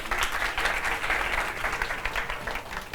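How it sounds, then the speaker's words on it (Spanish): An audience applauds a speaker at a science talk, a dense, steady wash of clapping from many hands that fills the whole moment without any voices over it. "Muchas gracias, Gonzalo, un aplauso para él."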